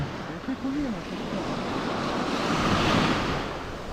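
Baltic Sea waves wash onto the shore in a continuous roar, with wind buffeting the microphone and a brief voice early on.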